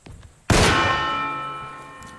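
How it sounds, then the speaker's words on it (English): A single loud bell clang in the dark horror game Alone in the Dark, struck sharply and ringing out with a long metallic decay over faint background ambience. "Is that a bell?"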